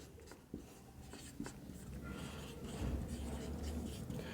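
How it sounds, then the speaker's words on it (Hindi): Marker or chalk strokes on a board while a physics formula is written during a class lesson, with soft scratching taps and faint, low background sound. "इसको जरा इधर लिखते हैं"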